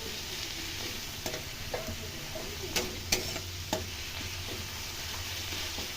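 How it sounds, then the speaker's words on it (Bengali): Mustard greens with a slit green chilli fry in a pan, giving a soft, continuous sizzle broken by several light scrapes and taps of stirring. No voices. "এবার ভালো করে ভাজা ভাজা করে নেব।"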